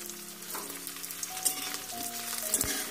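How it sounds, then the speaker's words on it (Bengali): Chopped capsicum frying in a pan, a continuous close sizzle with light crackling and a few stirring scrapes, no voices. "এবার আমরা দিয়ে দিচ্ছি ক্যাপসিকাম কুচি"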